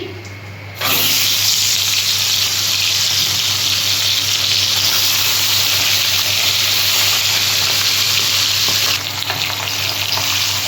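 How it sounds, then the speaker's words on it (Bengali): A fish head hits hot oil in a wok, setting off a loud, close, continuous sizzle that starts abruptly and holds steady before easing near the end. "এবার আমি মাছের মাথাটা দিয়ে দিচ্ছি।"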